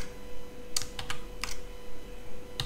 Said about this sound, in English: I'm going to press 0 on the keyboard.